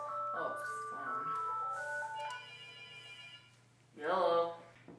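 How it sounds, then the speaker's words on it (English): A telephone rings in a short electronic trill, sounding once and then again after a pause, with a person speaking over the start of the ringing. "Oh, phone."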